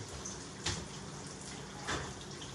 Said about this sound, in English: I'm going to drain the carrots